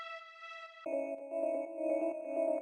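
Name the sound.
string sounds from free BBC Orchestra plugin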